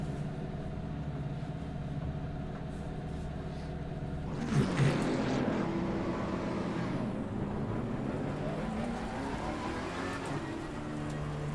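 A steady low race-car engine drone from the Ferrari 488 GT3 Evo in the video game Assetto Corsa Competizione runs throughout, with a brief burst of louder revving around the middle before settling back to an even idle hum.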